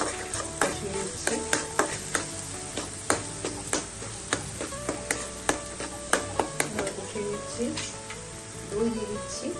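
Soybean and chickpea dal masala with turmeric, salt and sugar sautéed in a pan: a steady close sizzle broken by frequent sharp spoon scrapes and clacks against the metal, a fairly regular stirring rhythm throughout.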